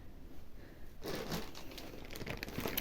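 A plastic bag holding 100% alpaca yarn in four colours crinkles and rustles in close, irregular bursts after a quiet start. The handling continues steadily, with no voices.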